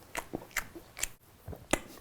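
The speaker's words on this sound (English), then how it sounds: "A lot of chew sounds." Close, wet chewing and crunching on a bite of turkey bacon sandwich from Starbucks, with several distinct bites and mouth clicks in quick irregular succession and no talking.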